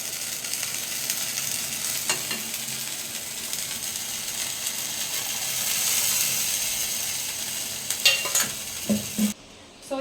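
Chicken gravy sizzles in a pan as water is poured in and stirred, giving a continuous bubbling hiss. A few scraping clinks of the utensil come near the end.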